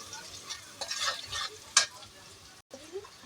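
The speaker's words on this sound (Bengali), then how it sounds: "দিয়ে এটাকে একটু ভেজে নেব" Onions with turmeric and salt fry in a pan, giving a soft, quiet sizzle broken by a few spatula scrapes and one sharp clink, followed by a brief pause near the end.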